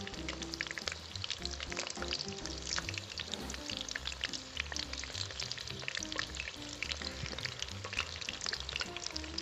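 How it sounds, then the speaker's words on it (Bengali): Bok flower (Sesbania) fritters fry in hot oil, giving a continuous sizzling crackle at moderate loudness with occasional stirring and bubbling, and no talk. "বকফুলের বড়াগুলোকে আমাদের ওলট পালট করে লাল লাল করে ভেজে নিতে হবে।"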